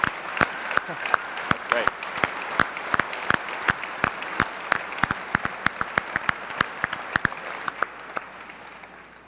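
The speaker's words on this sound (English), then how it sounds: "Let's give these system designers a round of applause" A room full of people applauds certified LabVIEW system designers at a product event, with sharp individual claps standing out over a steady wash of clapping and a brief spoken remark amid the applause.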